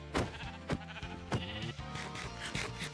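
Minecraft sheep bleat in a series of short, wavering baas at irregular intervals, several calls close together and fairly prominent over soft game ambience.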